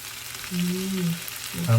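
Tandoori chicken sizzles in a covered pan, a soft steady frying hiss with low clinks and brief scraping as the lid settles, close and moderately loud.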